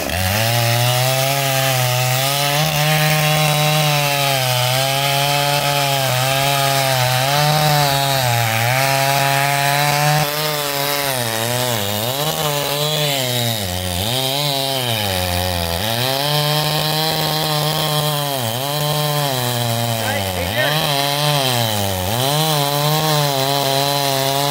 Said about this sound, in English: Flip your chainsaw, you could cut into it, or you could cut the other way and throw it that way.